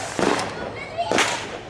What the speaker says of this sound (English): fireworks is nice on the holidays that they are intended for